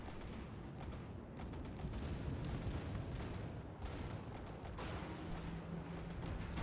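Naval guns, including a battleship's secondary guns, fire in the warship game World of Warships. Quiet, rumbling booms and bursts run almost continuously, with a somewhat sharper burst near the end.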